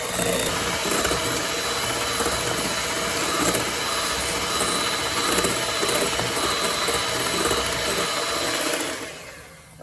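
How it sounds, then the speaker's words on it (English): Electric hand mixer whirring on high speed through egg whites, a steady dense mechanical buzz running nearly ten seconds before cutting off at the end. "we're going to take and beat it up on high heat"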